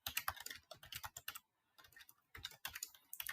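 Typing code on a computer keyboard: steady, close, fast key clicks in bursts with one brief pause, quiet and alone without speech.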